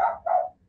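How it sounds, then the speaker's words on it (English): A dog gives two quick barks, sharp and fairly close, with quiet between them. "She's back there barking and barking."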